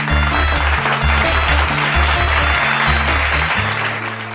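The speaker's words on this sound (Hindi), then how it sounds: "यार, पूरा कॉस्मोस ताली बजा रहा है।" Audience clapping at a Navratra Mahotsav stage show at Jaypee Kosmos: a steady wash of loud, dense applause under a throbbing, repeating bass-heavy music track that plays throughout.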